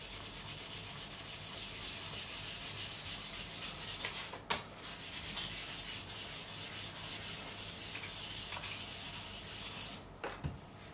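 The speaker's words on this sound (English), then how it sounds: "Just 400 grit this." Close, rhythmic back-and-forth rasping of 400 grit sandpaper on the fretboard of an Ibanez Roadstar II RG200 guitar neck, steady strokes interrupted by a couple of brief knocks.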